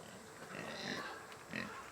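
Kune Kune pigs grunt and squeal while being fed corn on a farm, a close, busy run of snorts and squeals that swells briefly near the end.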